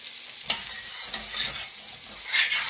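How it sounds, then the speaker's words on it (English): Whole milk being stirred into a pot of cooking potatoes, a brief bubbling sizzle with soft spoon strokes, close by and alone. "Put you some whole milk in there. It doesn't matter how much, but put you some. Stir it around a little."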